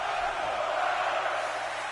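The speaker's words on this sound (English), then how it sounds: "There's the crowd here in Pontiac's chanting" A wrestling arena crowd in Pontiac chants for a wrestler during a match, a dense, steady wall of voices filling the hall without a break, with no clear individual speech standing out.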